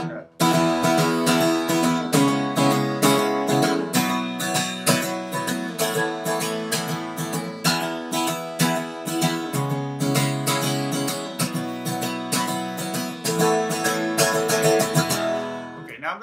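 Fast guitar strumming in a 6/8 lilt, loud and continuous with steady rhythmic chord strokes throughout and no talking.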